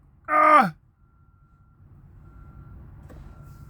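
A single short, loud reversing beep sounds from a backing truck, followed by a faint low engine rumble and quiet background noise.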